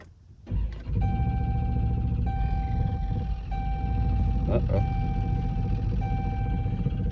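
A Chrysler 300C with a Corsa exhaust cranks briefly and fires up, then settles into a steady, loud, deep idle that holds close by, with a faint whine riding over the rumble and a voice speaking over it.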